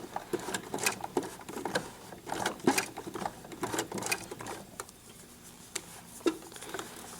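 A sewing machine stitches through a thick, tight seam on elastic-trimmed fabric, running in uneven bursts of rapid mechanical tapping with short pauses between runs, close and moderately loud, no voices.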